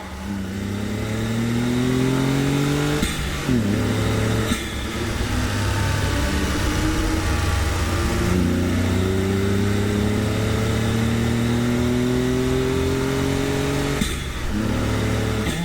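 A Honda S660 engine revs hard inside a road tunnel, loud and close, rising through the gears in repeated climbing pulls with brief dips at each shift and a steady echoing roar.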